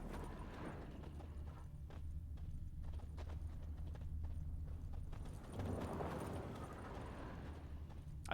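A horse's hooves clip-clop steadily in The Witcher 3 video game, a close, regular trotting beat that continues the whole time under faint background ambience.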